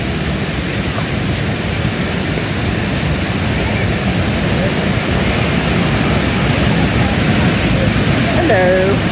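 Alberta Falls in Rocky Mountain National Park, a steady loud rush of falling water heard from close by, continuous broadband roar throughout with a faint brief voice near the end.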